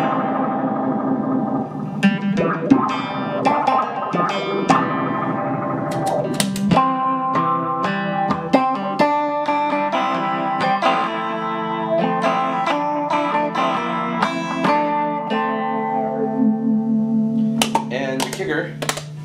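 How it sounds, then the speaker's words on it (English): Guitar run through several DIY phaser and modulation pedals plus a loop pedal into a small homemade solid-state amp, making layered, swirling, wavy tones with sustained notes and repeated picked phrases, loud and continuous. "I like to run a lot of the phasery modulated sounds together"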